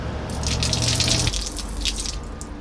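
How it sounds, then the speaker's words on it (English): Water gushes and splashes out of a small sink into a drain hole that lets it pour straight onto the sidewalk, a steady close rush with no voices. "it dumps out and I just drilled a hole in the bottom so it just like pours out straight to the sidewalk"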